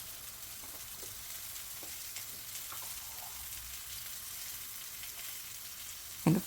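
Zucchini slices frying in olive oil in a pan, a steady soft sizzle running throughout with faint crackles, and a brief louder clatter near the end.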